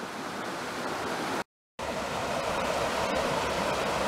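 Waterfall in a gorge, a loud, steady roar of falling water close by, continuous broadband rush broken only by a brief moment of silence partway through.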